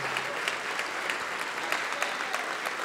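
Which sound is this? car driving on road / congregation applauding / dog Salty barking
congregation applauding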